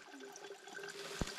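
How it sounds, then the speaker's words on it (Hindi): Water trickles steadily down through a homemade water filter that holds the dirt on top, a soft close flow with one small splash near the end. "यहाँ पे देखिए पानी साफ नीचे आ रहा है"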